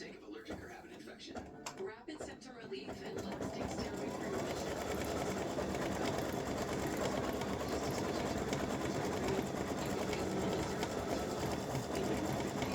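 An embroidery machine stitches roses and leaves onto a mug rug, a steady close mechanical whir that starts after a few seconds of quieter handling noise and runs continuously.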